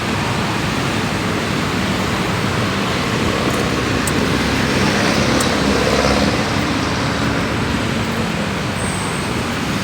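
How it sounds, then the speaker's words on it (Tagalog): Dense, steady roar of heavy traffic on Quezon Avenue, a continuous broadband wash of engines and tyres with no gaps, loud and unbroken throughout. "Pero sa baba na yan, papuntang papuntang Maynila. Kaya medyo matraffic talaga."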